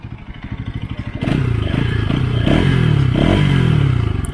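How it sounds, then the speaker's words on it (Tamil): A Bajaj Pulsar NS200 motorcycle exhaust idles with a fast, throbbing pulse, then is revved into a louder, sustained roar with rising and falling pitch as the throttle is worked, close and alone. "ஸோ இந்த வண்டியோட எக்ஸாஸ்ட் பார்க்கலாம்"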